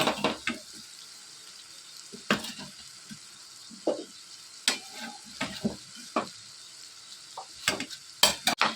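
Chicken liver frying in a pan with ginger-garlic paste and onions, stirred now and then: steady close sizzle broken by repeated sharp scraping and clattering strokes of a spoon against the pan, with no talking.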